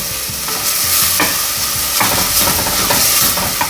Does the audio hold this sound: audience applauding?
no